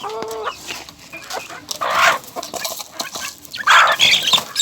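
Hens clucking and squawking nearby in uneven bursts, with louder agitated cackles toward the end and rustling between calls.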